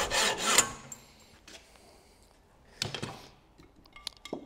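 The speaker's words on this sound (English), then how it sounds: "So we just take this first bit off with the saw" A hand saw cutting a sheet-metal part for a Maserati Mistral, with a loud burst of rasping strokes at the start, then scattered quieter scrapes and clicks nearby.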